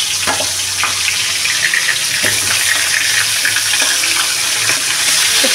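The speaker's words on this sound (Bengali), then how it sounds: "এখন মাছের মাথাটাকে আমি ভেজে নেব।" Fish head frying in hot oil in a wok, a steady hiss of sizzling with scattered crackles and pops running throughout, close and fairly loud.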